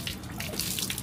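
Water pours from a ladle for hand washing at a temple purification basin, a brief, close, continuous splashing stream with no one talking.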